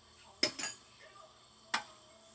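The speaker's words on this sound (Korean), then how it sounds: "이제 면을 넣겠습니다" Dry noodles dropped close into a pot of water for bibim naengmyeon, a few sharp clattering hits and a brief rustle, near and fairly quiet, with no talk.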